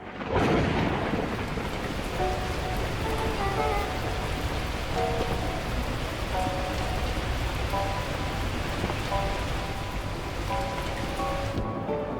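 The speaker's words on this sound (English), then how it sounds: "the heavens opened up, unleashing torrential rain." Heavy rain pours down in a dense, constant roar while thunder rumbles low beneath it, with faint soft tones floating over the storm, in the video game Beacon Pines.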